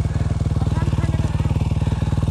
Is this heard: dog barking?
no